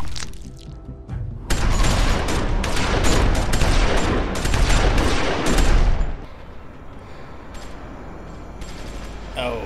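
A dense, loud fusillade of gunshots in The Walking Dead Season 2 video game, with overlapping bursts of rapid fire at close range for several seconds before cutting off into quiet ambience.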